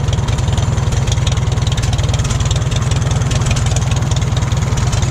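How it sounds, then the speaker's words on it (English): A 1941 Farmall H tractor engine runs steadily at idle, a loud, even low-pitched chugging with rapid regular firing pulses throughout, close by and alone. "it's a good running tractor"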